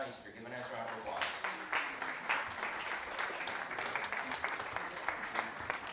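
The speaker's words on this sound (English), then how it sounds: "Give him a nice round of applause." An audience applauding the mayor of Niagara Falls, New York, with dense sustained clapping that holds fairly even, while voices murmur underneath.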